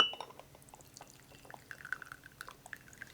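Raw puerh tea infusion is poured into a glass vessel, a soft, close trickle of liquid with faint drips, quiet and without talk.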